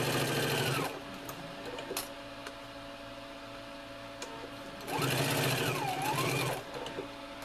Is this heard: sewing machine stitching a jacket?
yes